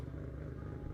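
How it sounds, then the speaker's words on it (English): A vehicle engine starts up in the video game 7 Days To Die, giving a short, steady low rumble that fills the brief moment on its own. "the startup of the engines are all different"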